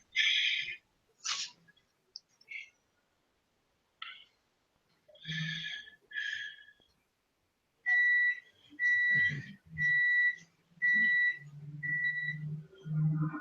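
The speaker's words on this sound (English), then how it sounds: "That was the microwave." A microwave oven beeps several times in a row, a clear steady tone over a quiet room. Brief bursts of low talk and other noises come between the beeps.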